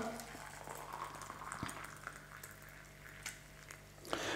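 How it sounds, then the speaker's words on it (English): Hot water pours from a kettle into a mug over a rooibos tea bag, a steady bubbling splash that runs for several seconds at close range. "We'll then fill it up with hot water."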